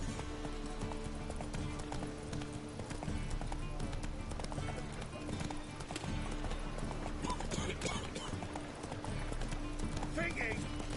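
Roach, the horse in The Witcher 3, gallops with rapid rhythmic hoofbeats over rumbling ground, steady and fairly close, mixed under game sounds and a spoken voice.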